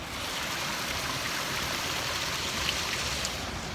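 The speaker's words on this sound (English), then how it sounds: "You can hear the sounds of it whooshing down there." Water whooshes down a street storm drain in a neighborhood, a steady broad rushing wash heard close and continuous, with faint traffic in the background.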